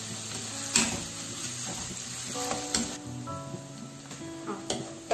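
Sliced onions salted and frying in a pan give a steady soft sizzle, with occasional clinks and scrapes of stirring breaking through.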